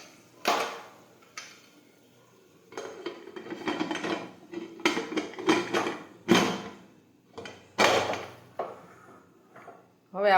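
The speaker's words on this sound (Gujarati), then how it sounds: "હવે આપણે કુકરનું ઢાંકણ છે તે બંધ કરી દઈશું." A pressure cooker lid is fitted and closed over ridge gourd sabji, with a series of metallic clanks, scrapes and clicks in uneven bursts close by.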